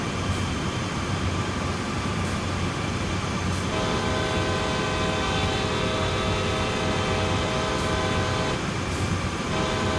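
A CSX train horn in the video game Train Sim World 5 sounds long and steady over the constant rumble of a moving train, with short higher tones dropping in and out.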